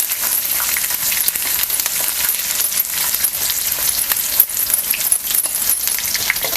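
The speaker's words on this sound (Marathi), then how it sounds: "थोडंसं लसूण बारीक करून घेतलं तर ते घालायचं आहे चांगलं असं परतून घ्यायचं" Finely chopped garlic sautéing in hot oil, a bright, crackly sizzle with light rattling, steady and close for several seconds without speech.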